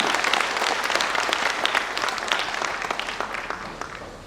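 Audience in a hall at a corporate success-day event bursts into sustained applause, a dense crowd of clapping hands rolling evenly for several seconds before starting to fade.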